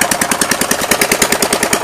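A new lawn mower's small engine runs close and loud in a rapid, uneven chugging pulse that hints at a carburetor needing tuning, with no speech over it.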